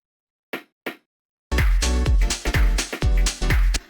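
Two sharp, dry snare sample hits ring out alone, then a loud piano house beat with heavy bass kicks in underneath.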